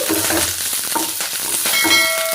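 Dried red chillies, crushed garlic and curry leaves sizzle and crackle in hot oil while poha is cooked, a steady close frying hiss with a few brief clinks of a stirring utensil against the pan.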